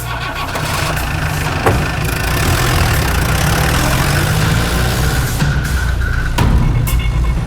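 A scooter engine idles with a loud, continuous, close rumble that stays steady throughout, with only small shifts in pitch and no speech over it.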